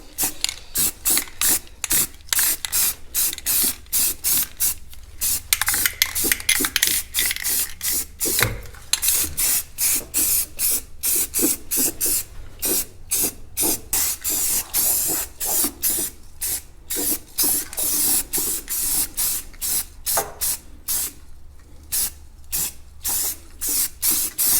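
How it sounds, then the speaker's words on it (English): Aerosol spray paint hisses onto an engine for a rotary-engined Mazda RX-7 in short, rapid, repeated bursts, loud and close, with rattling clicks between sprays and no talking. "Just gonna hit her with some spray paint really quick."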